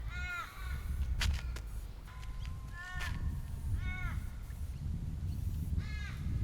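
Crows cawing outdoors in repeated harsh calls, several bursts spaced a second or so apart, moderately distant over low background rumble and faint ambient noise.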